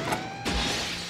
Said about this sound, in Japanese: 突然隣の部屋でガラスの割れる音がしました